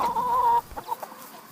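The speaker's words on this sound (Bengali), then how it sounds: "আমার একটা মুরগি কম কম লাগতেছে। একটা মুরগি কই গেল?" A cartoon farm chicken clucks close and loud: a sustained squawking cluck followed by a few short, choppy clucks, alone with no speech.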